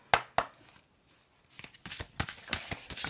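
Oracle healing cards being shuffled by hand in a few brisk riffling bursts, two sharp snaps early then a denser flurry of card flicks, close and fairly quiet with no talking.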